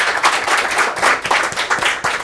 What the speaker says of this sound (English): So I think we should all give him a big round of applause.